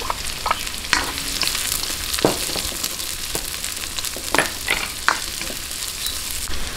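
Onions sautéing in a pan until light brown for Filipino-style meatballs give a steady close sizzle, with occasional sharper stirring clicks and scrapes scattered throughout.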